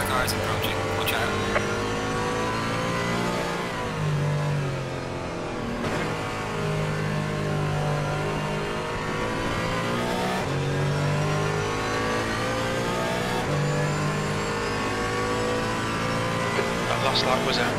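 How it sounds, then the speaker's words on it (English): Multi-class GT race cars in Assetto Corsa Competizione, racing in an endurance event at the Nürburgring, hold a dense, steady engine drone as faster cars close in, with rising and falling revs, gear changes and occasional voice cues over the top. "Faster car is approaching. Watch out."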